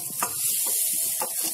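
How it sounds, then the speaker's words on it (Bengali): Cauliflower pieces frying in oil in a pan for a vegetarian mixed vegetable moong dal, giving a steady close sizzle with a few brief stirring scrapes and no voices. "কপিগুলো খুব সুন্দর ভাজা হয়ে গেছে"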